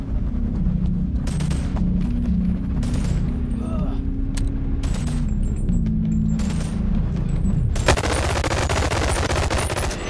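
Sustained automatic gunfire as a full magazine is emptied in the VR shooter Boneworks, a loud continuous rattle of shots lasting several seconds before a harsher burst of noise near the end.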